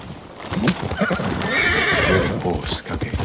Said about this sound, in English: Horse, Kage.